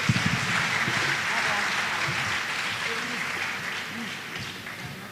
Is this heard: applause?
yes